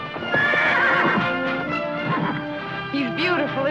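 A spirited horse on a western ranch neighs loudly and repeatedly in long whinnies, close by, with hooves clip-clopping underneath and brief voices mixed in.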